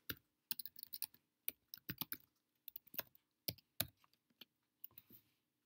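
Password typed on a Chromebook keyboard, quick irregular bursts of light, close key clicks with brief pauses between groups, fading out near the end, with no talk.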